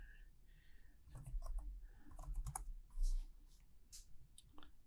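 A computer keyboard typing a date during PCB layout work: soft, close clicks in short irregular bursts over a low background hum, with no clear talk.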